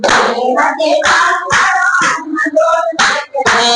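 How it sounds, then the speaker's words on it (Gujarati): Rhythmic two-handed clapping from a group at a Gujarati devotional chant, sharp bursts landing in a steady beat across the clip alongside continuous singing voices. "બે હાથે તાળી પાડો હાથમાં જોર છે કે નહીં?"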